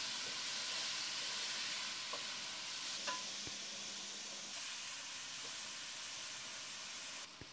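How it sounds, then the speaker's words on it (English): Tomato and green bell pepper frying over high heat in a pot, a steady broad hiss of sizzling with a few faint clinks of stirring, close and even throughout with no voices. "Then add the tomato and green bell pepper into the pot and keep frying on high heat for a minute."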